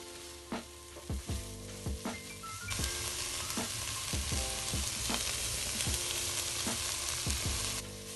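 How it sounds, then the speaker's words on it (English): Onions and the white parts of green onions fry in a pan, first with several sharp spatula taps and scrapes, then a loud continuous sizzle with occasional stirring knocks underneath. "If the onions look tender and brown enough, add the green onions."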